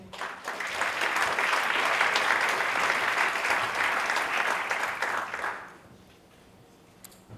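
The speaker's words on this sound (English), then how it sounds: "Thank you for applauding me on." A conference audience applauds as a retail strategy director takes the stage, loud, dense clapping that holds steady for about five seconds, then dies away into quiet room tone.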